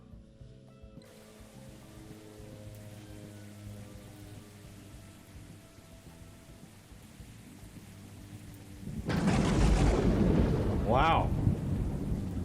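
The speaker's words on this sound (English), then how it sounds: "this is the first like honest lightning storm I've ever had in this game" Lightning storm in the airport-building game Airport CEO: steady rain hiss and low rumbling for several seconds, then a loud, close thunderclap bursts in near the end, with a brief spoken exclamation.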